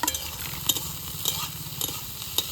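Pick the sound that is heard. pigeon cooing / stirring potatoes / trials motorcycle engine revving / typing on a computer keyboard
stirring potatoes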